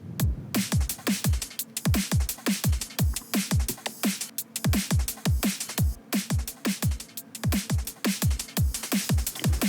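Heavily parallel-compressed neurofunk drums pound out a steady, dense beat, kicks and snares hitting hard with almost no dynamic range, loud and continuous with no talking.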